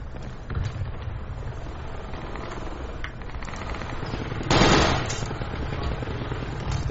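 Enemy gunfire in Project Reality, a steady rattle of automatic shots from a fair distance, with a louder, closer burst about two-thirds of the way through.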